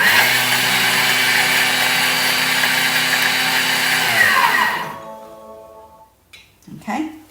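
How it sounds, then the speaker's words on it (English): Food processor milling corn flour and sugar at speed 9, a loud steady high-pitched whirring roar for about four seconds that winds down into quiet, followed by a few light clunks. "we're going to mill the corn flour and the sugar together. 4 seconds, speed 9"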